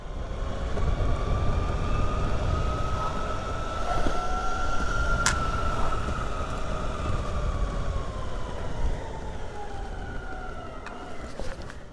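JKING Jupiter X all-terrain electric skateboard ridden hard in 4th speed, a steady motor whine gliding up and down in pitch over continuous rolling rumble and wind, loud and close throughout with no talking.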